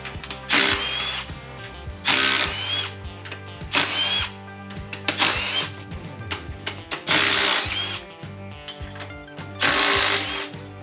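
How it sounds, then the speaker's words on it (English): A power tool spins out the upper intake manifold bolts on a Ford 302 V8 during an engine teardown, five or six loud whirring bursts with pauses between them and ratcheting clicks, close up and without speech. "Let's take these upper intake manifold bolts out."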